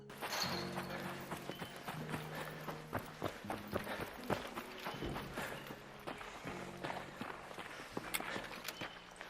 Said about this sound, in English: It's the different footsteps your character makes in different terrain.